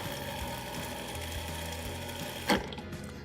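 A blender runs steadily, blending Caesar salad dressing with egg yolks, a close continuous motor whir with a brief clatter near the end.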